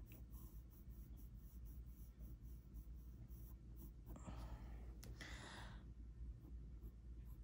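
A coloured pencil point moves over paper to neaten the edge of a fig drawing, giving soft scratchy strokes under a steady low hum, with two brief louder scrapes near the middle.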